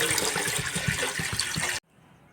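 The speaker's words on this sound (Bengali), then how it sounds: "প্রথমে জল দিয়ে দেব" Water poured into a cooking pot on a gas stove for rice, a steady rushing splash that stops abruptly near the end, close and moderately loud with no voices.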